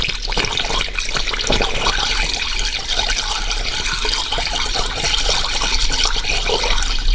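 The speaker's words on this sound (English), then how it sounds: "We want to see the coolant coming out from the thermostat valve just down here that you've just slackened off" Coolant pours and trickles steadily into the cooling system of a Dodge Grand Caravan with a 3.6 V6 during a refill after a water pump change, a continuous close liquid flow with no talking.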